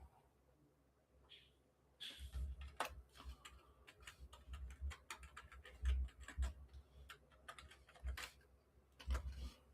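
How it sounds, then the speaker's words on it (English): Someone types on a computer keyboard, producing irregular bursts of crisp, close clicks and taps with brief pauses between runs of keystrokes. "let me type that in"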